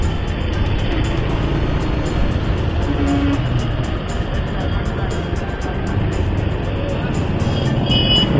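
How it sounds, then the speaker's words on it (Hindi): Heavy road traffic at a stop in Nandurbar city, heard from a motorcycle: a dense, steady roar of engines and tyres with continuous broadband noise, loud and close throughout. "और जबरदस्त ट्रैफिक।"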